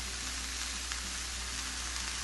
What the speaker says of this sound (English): we're just going to let these mushrooms cook down with, again, a little salt and pepper